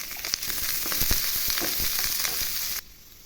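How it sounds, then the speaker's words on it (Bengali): Cut and washed vegetables for a mixed vegetable pickle fry in hot oil with a loud, dense sizzle and crackle. The sound cuts off abruptly near the end and leaves quiet. "কেটে ধুয়ে রাখা সবজিগুলো দিয়ে দিলাম আর একটু ভেজে নেবো।"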